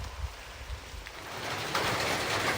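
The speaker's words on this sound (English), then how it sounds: "Part of being on the Appalachian Trail is dealing with rain" Rain falling along the Appalachian Trail in Vermont's forest, a steady broad hiss of drops on foliage and ground, moderately loud and continuous, with no voices.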